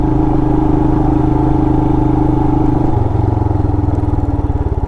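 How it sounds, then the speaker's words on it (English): A 2020 Royal Enfield Himalayan motorcycle on knobby tires chugs along off road over gravel, its loud steady low engine thrum close by, easing to a slower, rougher pulse partway through with no talk. "this little bike just chugs along"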